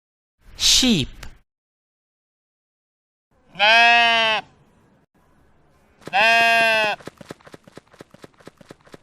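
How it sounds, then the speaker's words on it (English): A sheep bleats twice in long, wavering calls after a short opening cry, then quick clip-clopping hooves start up nearby. "sheep"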